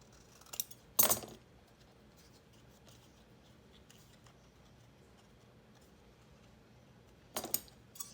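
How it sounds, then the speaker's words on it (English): Scissors cutting a paper tag while making collage journal cards: two short, crisp snips, one near the start and one near the end, separated by a long quiet stretch. "Why don't I just go ahead and cut it so we know."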